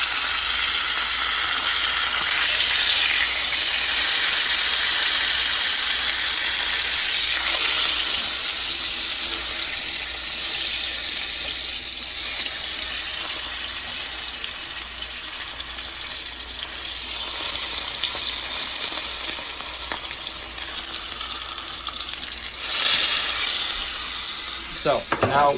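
Thick pound-weight steak with its fat edge rendering in a hot pan, steady loud hiss and crackle of sizzling grease throughout, with faint occasional voice.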